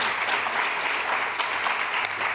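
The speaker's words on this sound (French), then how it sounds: "on peut l'applaudir" An indoor conference audience breaks into brief applause, with a dense, steady patter of clapping that fills the moment and has no voice over it.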